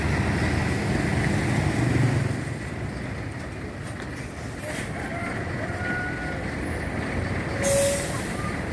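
A Rosalia Indah bus maneuvers to park outside a ticket office, its engine rumbling steadily with a brief hiss of air brakes amid street noise, while people talk nearby.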